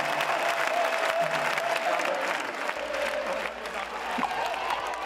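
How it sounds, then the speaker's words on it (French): A crowd gathered on a cathedral square bursts into applause as a festival procession arrives in Ibiza, dense clapping mixed with crowd noise and voices, steady and fairly loud throughout. "Soudain, les applaudissements se déchaînent."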